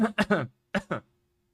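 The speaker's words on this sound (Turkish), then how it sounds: "Arada öksürürüm, tıksırırım bir şeyler olur." A man coughs and clears his throat in a few short harsh bursts, two quick pairs separated by a brief pause, close up and otherwise quiet.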